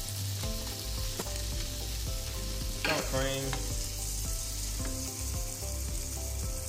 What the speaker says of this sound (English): Now throw my chives.